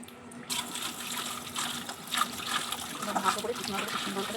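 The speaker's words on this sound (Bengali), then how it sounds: "ভালো করে জল দিয়ে ধুয়ে নেব" Sliced snake gourd is rinsed in water, with close splashing and trickling as the pieces are stirred and handled, mostly steady with brief louder sloshes, and a voice talking faintly at times.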